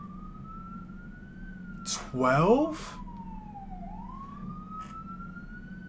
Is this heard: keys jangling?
no